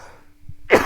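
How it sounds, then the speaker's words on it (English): A single sharp, close cough bursts out loudly after a moment of near silence, short and alone. "cough"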